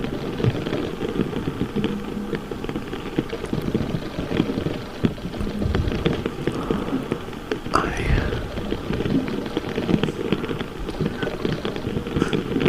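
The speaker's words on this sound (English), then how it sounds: "I always find the rain soothing" Steady rainfall patters densely and continuously in a garden over several seconds, a soft, even hiss with occasional sharper drops and no voices.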